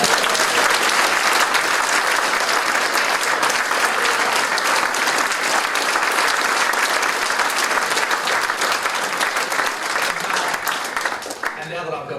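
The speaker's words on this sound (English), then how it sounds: "let's give them a round of applause" Sustained applause from a large audience at a climate action summit keynote, steady and loud throughout, tapering slightly near the end.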